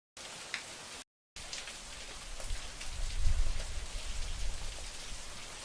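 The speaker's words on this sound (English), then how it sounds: "I think that's thunder." Rainfall recording for game atmosphere, a steady close hiss of rain with a brief dropout early on, then a low rumble of thunder building and peaking near the middle before easing under the continuing downpour.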